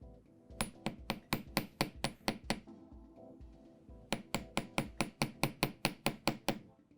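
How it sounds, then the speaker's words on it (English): Light, rapid hammer taps on a metal jewelry ear wire to work-harden it, two bursts of about a dozen quick, even, bright clinks each, close and clear with a short pause between. "I'm just going to give this a light hammer because I want to harden that metal"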